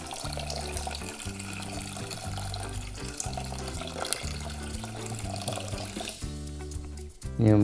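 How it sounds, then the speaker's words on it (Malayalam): Water pours steadily from a vessel onto sugar in a pan to make syrup for bread gulab jamun, a continuous close splashing stream under background music that ends abruptly. "ഇനി അതിലേക്ക് കുറച്ച് വെള്ളം ഒഴിച്ച് കൊടുക്കാം"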